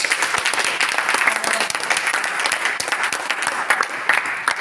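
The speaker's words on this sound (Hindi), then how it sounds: "जोरदार तालियां" An indoor audience gives a loud, sustained round of applause, dense, continuous clapping from many hands throughout.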